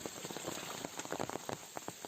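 Heavy rain pouring in a mountain forest in a village area, a steady dense hiss with scattered close drop patters and splashes, no voices.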